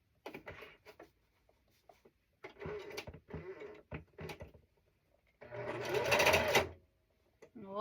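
A home sewing machine runs a quarter-inch quilt seam in one loud burst of steady whirring near the end, after shorter handling noises and scattered bits of talk.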